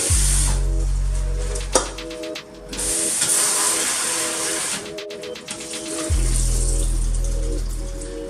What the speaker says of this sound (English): what I like to do is I like to wet my salad just to clean it off